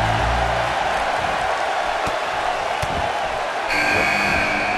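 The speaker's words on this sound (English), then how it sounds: "Listen to this crowd count the next one in." An arena crowd in the wrestling video game WWE 2K18 roars continuously, with sharp impact thuds from the match and a burst of entrance music swelling in near the end.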